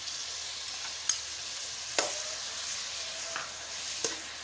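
Garlic and tomatoes frying in a pan for spinach and mutton curry, a steady soft sizzle with four brief spoon scrapes spaced through it, close and fairly quiet with no voices.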